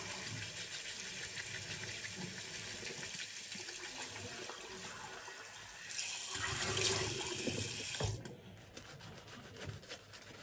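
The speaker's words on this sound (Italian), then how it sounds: "Arisciacquo il viso." Tap water runs steadily into a sink as a face is rinsed during a shave, the flow swelling louder for a couple of seconds near the end before cutting off, leaving quieter trickles and drips.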